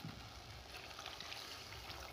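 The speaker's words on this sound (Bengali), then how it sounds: "এর মধ্যে এবার আমি জল দেবো।" Water poured into spiced potatoes frying in a pan for a vegetarian curry, a soft continuous gurgling trickle and splash at low level, steady throughout with no voices.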